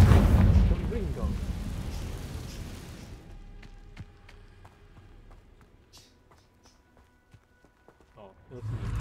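A Confringo fire spell in the Hogwarts Legacy video game bursts out as a loud, rumbling explosion over the first few seconds, then fades into quieter scattered game effects and a few small impacts.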